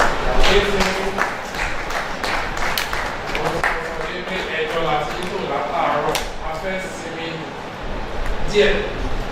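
Audience applause for a group performance at an International Day of Persons with Disabilities event, a steady wash of clapping with voices talking over it throughout.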